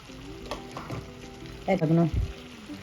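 Gujarati surti undhiyu being stirred in a hot pan, a soft sizzle under scraping strokes of the spoon, with one louder burst of stirring near the end.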